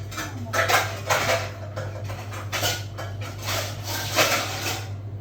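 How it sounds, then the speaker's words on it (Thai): Metal lid clattering onto a cooking pot of baked shrimp and glass noodles, several close, sharp clinks and knocks in a loose series over a steady background hum. "เอาฝามาปิดได้เลยนะจ๊ะ"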